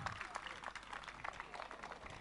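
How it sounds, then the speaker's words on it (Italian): A crowd at a karaoke night in Foggia, Italy, claps for a family in faint, distant applause, a continuous patter of hands with murmuring voices underneath. "Signori, facciamo un applauso alla famiglia"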